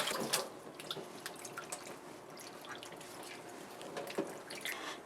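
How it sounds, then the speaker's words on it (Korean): Seaweed is rinsed in cold water, with faint splashing and dripping, soft water and hand movements in a sink, quiet and intermittent. "얼른 찬물에다가 헹궈줘요."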